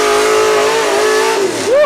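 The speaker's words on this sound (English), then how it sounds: "God, that thing sounds good. It does, Mike. What an engine." A demolition derby car's engine revs hard and loud up close, holding a strong steady roar before dropping and surging again as the pitch rises, with faint crowd and arena noise behind it.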